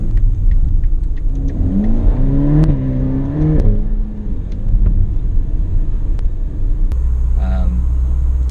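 Ferrari Portofino accelerating hard through its short gears, a loud close engine note with rising pitch sweeps at each upshift, followed by a steady low rumble.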